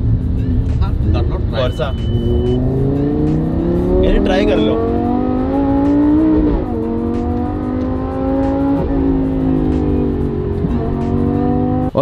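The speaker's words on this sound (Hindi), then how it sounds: "तो हम जल्दी थोड़ा सा भगा रहे गाड़ी को" A Lamborghini engine revs and pulls hard as the car accelerates along a road, its rising drone loud and steady throughout, with someone speaking over it.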